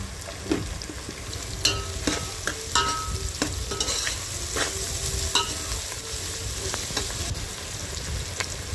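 Onions frying in a pan with salt and turmeric, stirred, close and continuous sizzle broken by repeated sharp scraping and clinking strokes of a spoon against the pan.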